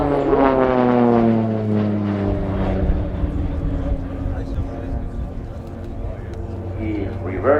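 A Pilatus PC-7 of the Swiss Air Force team at full power during an aerobatic airshow display, a loud propeller drone with shifting harmonic pitch as the aircraft climbs and passes, under continuous commentary from a voice.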